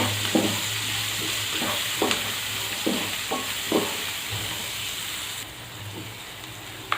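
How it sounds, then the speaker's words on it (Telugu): Green chillies and carrots are stir-fried in a pan for paneer fried rice, giving a constant close sizzle with a run of rhythmic scraping strokes that ease off toward the end; no one talks. "ఇప్పుడు తర్వాత క్యారెట్ ఇవన్నీ వేసేసుకోవాలి. ఇవన్నీ వేసుకున్న తర్వాత ఇలా ఫ్రై చేసుకోవాలి."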